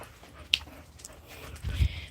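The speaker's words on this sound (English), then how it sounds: "my dogs, they hear the other dogs, so they're communicating." Dogs respond to other dogs somewhere out of sight, giving a brief sharp yelp and then low whimpering and grumbling near the end, fairly close but quiet overall.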